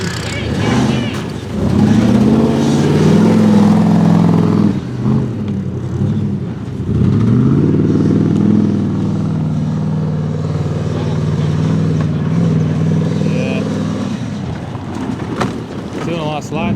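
Mud buggy 4x4 engine revving hard and steadily through a muddy race, sustained loud drone with rising and falling pitch over nearly the whole stretch, occasional voices mixed in.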